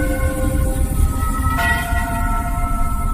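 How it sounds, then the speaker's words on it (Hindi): A bell rings with a sustained, sharp metallic tone that lingers, a second strike layering in partway through over a low rumbling background. "घंटी अपने आप बज उठती है।"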